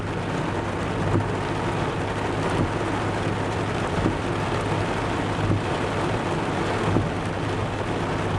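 Heavy rain falls steadily on a summer day, a dense, continuous hiss and patter with low rumbling that suggests distant thunder, loud and unbroken throughout with no voices.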